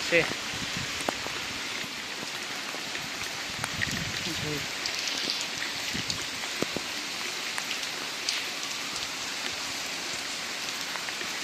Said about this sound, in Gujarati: ફૂલ વરસાદ છે